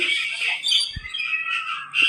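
Birds at Mysuru Zoo call loudly in harsh, repeated squawks and shrill cries, overlapping continuously with a brief low thump partway through.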